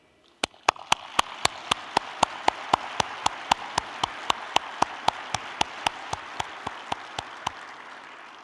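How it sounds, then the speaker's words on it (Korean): A single slow, steady clap at a Trade Day ceremony, about twenty crisp evenly spaced claps over a soft crowd murmur, with no talking. "오늘 무역인들에게 힘찬 격려의 박수를 보내주십시오."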